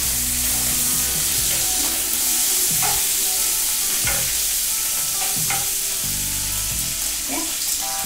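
Bacon frying in a pan gives a loud, dense, continuous sizzle and crackle, close up, with some faint scraping of a utensil and no voices.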